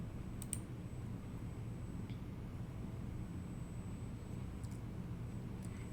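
A few faint, sharp mouse clicks sound over a steady low background hum while a font is uploaded in Canva on a computer, sparse and quiet with no voices.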